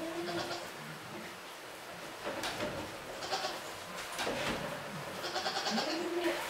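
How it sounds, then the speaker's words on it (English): Goats outside a newly finished homestead barn bleat repeatedly in wavering calls, some near and some farther off, over a faint outdoor background. "And the goats are begging to get in"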